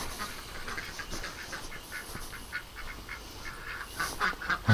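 Ducks quack and honk repeatedly nearby as they are herded into a pen, scattered calls over a quiet outdoor background, growing louder toward the end.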